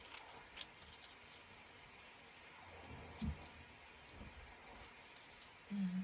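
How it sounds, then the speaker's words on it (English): Scissors snipping out small printed paper labels, a few quiet, separate cuts at a slow pace, close and soft with no talk. "little labels here that I printed out. So just quickly just cut these out."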